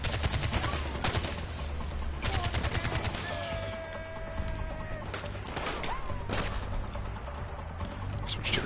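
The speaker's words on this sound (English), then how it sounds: "that guy's got a mounted MG" A mounted machine gun in Far Cry 4 fires repeated rapid bursts, loud rattling volleys separated by short pauses, with other crashes and game sounds in between; a voice speaks briefly beneath the gunfire.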